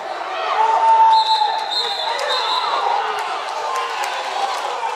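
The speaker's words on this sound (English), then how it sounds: "I can hear the crowd yelling" Crowd noise at a high school wrestling finals tournament, a loud sustained roar of yelling and cheering from the stands with a sharp whistle blast early on, filling the whole span.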